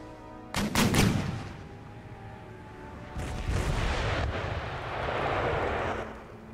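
Artillery cannon fire in the video game Empire Total War: a loud, close blast rolls into a rumbling boom, followed by further distant booms and a lingering roar.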